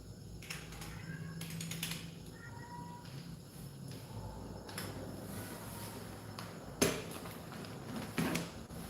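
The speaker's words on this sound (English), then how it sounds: "Hear my cat in there." A house cat meows a few times at moderate distance, thin tonal cries spread across a quiet room with faint clicks and a couple of louder knocks.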